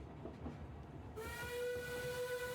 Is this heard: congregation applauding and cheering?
no